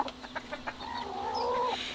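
A bantam flock rooster clucks close by: a run of short, sharp clucks, then a longer, rising squawking call near the end, loud and alone.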